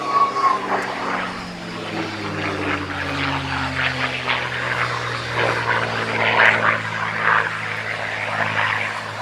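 A WWII fighter aircraft painted as Colonel Don Blakesley's plane flies past at Cosford Airshow, its propeller engine droning with a falling pitch as it passes, moderately loud and steady, with crowd noise faint beneath.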